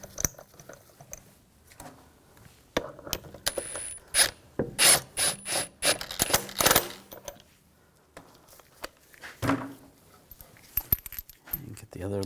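A ratchet tightening lug bolts on a 2000-2006 BMW X5 wheel, heard as quick clicking runs and metallic rattles in short bursts, close and moderately loud, with some handling noise between.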